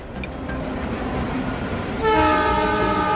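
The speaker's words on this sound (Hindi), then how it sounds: "ये सट के लगता हुआ रेलवे ट्रैक है, कुछ ट्रेन जाता तो ऐसा होता।" A train rumbles past on a railway track right beside a police station, a steady close roar that swells into a loud, sustained horn blast toward the end, with no talking.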